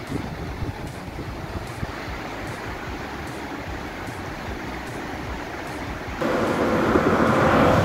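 Overflow water from the Vaal Dam rushing down the river in a steady, broad roar, with a louder, closer surge of flowing water in the last couple of seconds.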